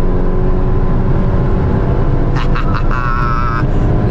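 Volkswagen Jetta TSI with an oversized Biagio 300 turbo and remap, engine droning loud and close under hard acceleration toward 7,000 rpm, with a sharp whistling burst from the turbo midway.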